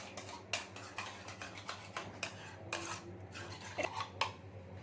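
A spoon scrapes and clinks around a bowl while yogurt is stirred with salt, giving a run of close, irregular metallic taps and soft rubbing sounds.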